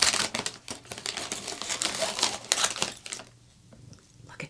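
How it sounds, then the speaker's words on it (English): A snack bag crinkles and rustles loudly at close range as scissors cut it open, with dense crackling bursts for about three seconds before the sound fades to quieter handling. "So I'm going to use the scissors because I don't want to make too much noise."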